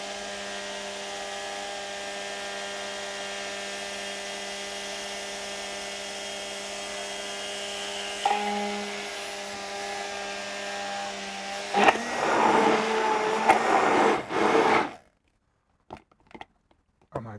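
An immersion blender whizzing homemade mayonnaise holds a steady, close motor whine for many seconds, shifts and wavers in pitch toward the end, then cuts off, leaving a few soft clicks.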